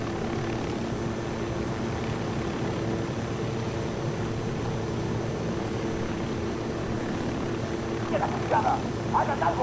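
A helicopter in the Ghost Recon Wildlands video game drones steadily throughout with a dense rotor and engine rumble, and brief faint voices come in near the end.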